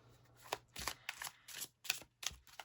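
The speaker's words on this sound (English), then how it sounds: "So let's shuffle." Oracle cards, large but slippery, are shuffled by hand in about six quick riffling bursts with short pauses between, soft and close in a quiet room, without speech.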